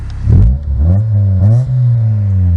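A car engine with a fully replaced exhaust system and header revs up and settles back with a deep, throaty exhaust note, rising and falling in pitch over a couple of seconds.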